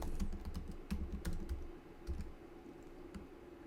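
Fast typing on a computer keyboard, with clustered bursts of clicky keystrokes that start and stop irregularly, fairly close and moderately loud, with no talking.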